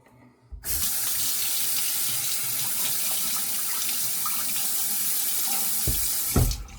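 Tap water runs steadily into a sink to rinse off shaving soap, a continuous close splashing stream starting after a brief pause and stopping near the end with a couple of small knocks.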